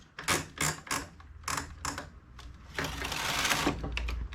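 A domestic knitting machine carriage sliding across the needle bed to knit a row, giving loud, close mechanical clacking and whirring bursts in quick succession, ending in a longer sustained rattling sweep.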